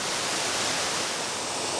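Water pours steadily over a limestone ledge at a waterfall, a dense, continuous broadband rush with no breaks, moderately loud and free of speech.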